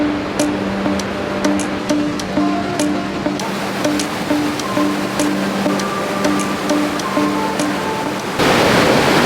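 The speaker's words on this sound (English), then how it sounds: "see a bit more of the top of the waterfall, but it's so loud" Krimml waterfalls in Austria roar as a loud, constant broadband rush of falling water close by, steady throughout with faint high tones over it and a burst of louder wind-like noise at the very end.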